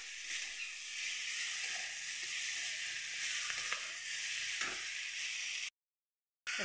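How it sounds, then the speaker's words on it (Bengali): Spice paste sizzles and fries steadily in a hot pan, a continuous close hiss with small crackles and pops, cut by a brief silent gap near the end. "মশলাটা লাল লাল করে ভাজা হলে"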